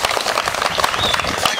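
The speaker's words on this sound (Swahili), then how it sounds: "Tujipigie makofi." A crowd at a CCM political rally in Sikonge claps steadily, a dense spatter of hand claps heard close with a voice over it.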